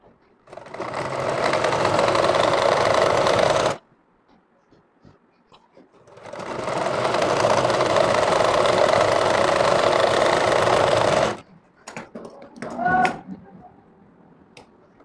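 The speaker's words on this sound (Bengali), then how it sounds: "নিচ পর্যন্ত সেলাইটা নিয়ে যাবেন।" An electric sewing machine stitches a frock seam in two long, steady runs of loud motor whirring, split by a short pause and followed by a few brief clatters at the end.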